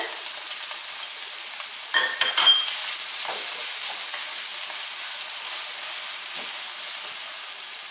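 Butter sizzles in a pan as the base for a roux, a constant bright hiss throughout with a brief burst of clattering stirring near the start.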